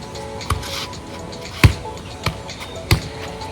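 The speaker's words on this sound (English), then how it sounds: "Another important part of airball is the way the ball bounces." Four sharp ball bounces at uneven intervals, close and distinct, over a low steady background hum.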